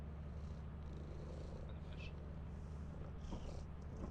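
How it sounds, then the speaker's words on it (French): A large cat purrs steadily inside the video game Lethal Company, a low continuous rumbling that runs unbroken through the whole stretch, with a few faint higher game sounds flickering over it. "Il y a un gros chat qui ronronne. Dans le jeu, oui."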